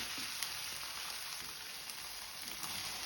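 Hing, ginger garlic paste and green chilli fry in hot oil as a soft, steady sizzle with faint crackles, continuous and fairly quiet throughout.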